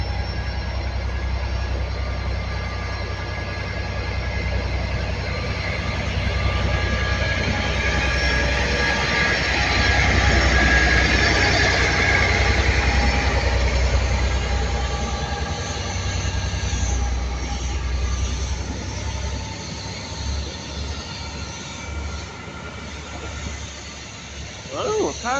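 Class 57 diesel locomotive 57602 running light with nothing behind it, a loud sustained engine roar and rumble that swells and then fades with some wheel squeal, with people talking faintly.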